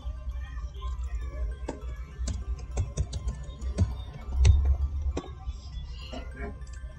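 Keys tapped on a computer keyboard as a password is entered, with scattered, irregular clicks over a low background murmur and hum.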